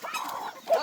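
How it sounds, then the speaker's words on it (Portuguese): Chickens clucking on a rural farm where ducks also roam, a brief close burst of soft clucks. "Galinha espalhada pra todo lado."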